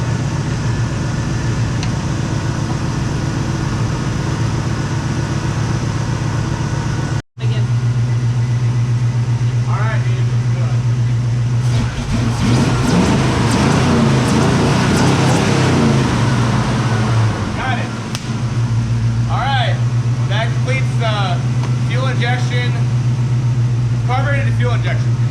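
A Chevrolet Blazer engine idling steadily after a carburetor-to-fuel-injection conversion, a constant low hum with a brief dropout, while people talk nearby over it.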